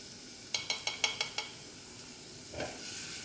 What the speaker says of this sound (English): I want to add in the garlic, just to reduce the harshness of the garlic.